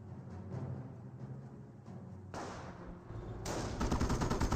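MG42 machine gun fire in Company of Heroes, sustained rapid bursts that step up in loudness through the clip, with a steady stream of gunfire growing nearer and heavier toward the end.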